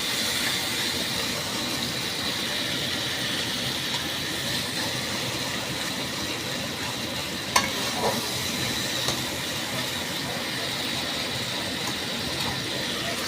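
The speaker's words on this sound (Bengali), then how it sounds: "নুন দিয়ে করলে আর কিছু না চরবরানিটা একটু কম হবে" Steady, dense sizzling and spluttering of hot oil in a pan as onions fry with salt for an egg curry, continuous and close, with a couple of faint clinks.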